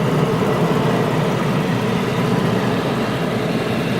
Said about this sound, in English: So I'm going to start this engine up here and let you hear it